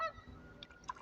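Geese on the water while kayaking, a few short honks coming in the second half after a quiet paddling moment, moderately close and not very loud.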